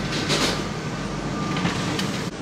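The automated Skytrain at Singapore's Changi Airport runs between Terminal 3 and Terminal 1, giving a steady rolling rumble with soft clatters and a brief whine before a sudden drop near the end.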